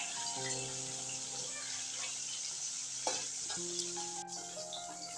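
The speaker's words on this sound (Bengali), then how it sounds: "তা মাছগুলো উল্টিয়ে আমি ভেজে নেব ভালোভাবে" Fish pieces frying in a very hot wok sizzle steadily, with occasional stirring clicks and a faint tonal hum running underneath.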